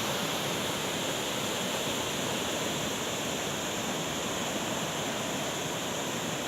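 A floodwater torrent sweeping cattle away rushes as a steady, dense roar of water, constant and fairly faint with no distinct events standing out.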